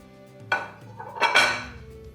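A frying pan used for coconut French toast is set back down on the stove with two or three close metallic clanks and a brief scrape in a quiet kitchen.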